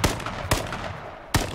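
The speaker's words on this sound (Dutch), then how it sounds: "Zit hij nou met zijn AK, by the way, te schieten?" AK rifle gunfire in the battle royale video game H1Z1, three sharp, loud single shots spaced irregularly, each with a short decaying tail.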